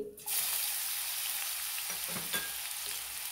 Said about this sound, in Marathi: आता आपण पॅन मध्ये तेल घेतले ते टाकून घेऊया भाजीला. 1 चमचा जिरं, लसूण पेस्ट करून घेतले ते